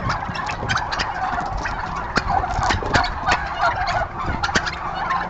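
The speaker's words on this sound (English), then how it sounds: "These turkeys are so curious." Several turkeys gobble repeatedly nearby, overlapping warbling calls over a low rumbling background.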